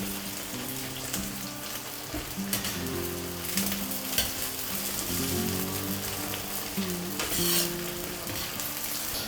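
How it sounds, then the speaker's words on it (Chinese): Scallions deep-frying in oil with a dense, steady crackling sizzle, punctuated by occasional scrapes and stirs, close and fairly loud with no voices. "我们炸到这个葱的水分差不多的时候"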